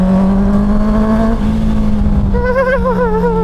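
A 2025 Honda CBR650R E-Clutch motorcycle with a 94-horsepower engine holds a loud, steady high-RPM drone up close, then its pitch rises and wavers as the throttle is worked.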